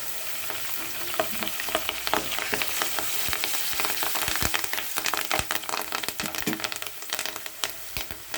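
Onions frying in a pan with turmeric and curry leaves added, for a cluster bean fry, giving a steady close sizzle broken by sharp crackles and pops, with stirring scrapes throughout.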